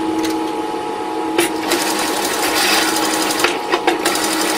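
A sewing machine stitches the center seam on the back of a large puppet head, a steady mechanical whir with a few sharper clicks and bursts, close and alone without talk.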